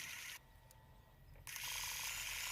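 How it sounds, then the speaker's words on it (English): A sewing machine free-motion quilting with a free motion foot stitches in short bursts, a fast mechanical chatter that stops briefly, then resumes, close and steady, with no voices. "I want to take my sewing machine just like you see me doing here."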